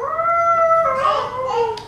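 Children imitate dogs howling with their voices, several overlapping wavering, gliding howl-like wails held loud and close for about two seconds.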